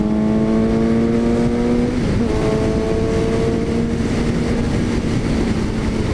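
Suzuki GSX-S750A motorcycle engine revving high and steady, a loud, continuous, close-up drone whose pitch holds, dips briefly, then settles on a sustained high note.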